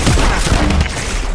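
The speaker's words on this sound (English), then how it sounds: "Fucking grenade launchers, dude." Grenade launcher blasts in a multiplayer shooter game, a dense, loud stretch of overlapping booms and crackling explosions with no pause.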